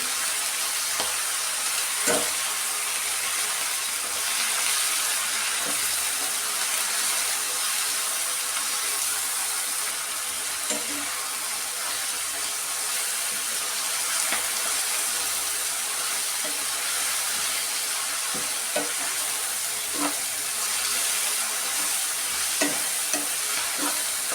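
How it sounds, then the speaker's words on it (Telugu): Steady sizzling and scraping as tomato chilli chutney with chopped fenugreek leaves fries in a pan, a continuous hiss punctuated by occasional clicks of a stirring spoon, close and alone without voices. "పచ్చి వాసన పోయేదాకా ఫ్రై చేసుకోవాలి"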